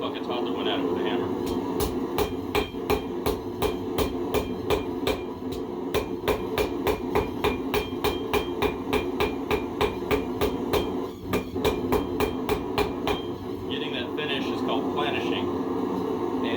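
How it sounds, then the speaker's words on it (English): Steady, rapid hammer blows planishing a hand-forged steel wall hook on an anvil, dozens of sharp, even metallic strikes in a regular rhythm, close and loud, with a low background hum throughout. "Because you got to try to eliminate all the individual hammer strikes."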